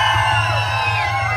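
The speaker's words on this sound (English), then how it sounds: "The louder you scream and shout" An audience screaming and shouting at a Samoan slap dance show in an outdoor venue: a dense, sustained roar of whoops and yells from many people, loud and close, continuing without a break.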